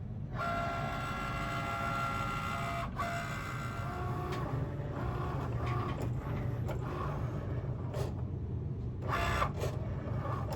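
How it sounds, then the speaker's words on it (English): A Cricut Maker cutting a large home decor sign design runs with a steady mechanical hum and whir, joined by intermittent higher whines and clicks as the carriage moves, constant and moderately loud. "now my Cricut machine light is blinking, so I'm going to press that, and now it's going to start doing the cutting"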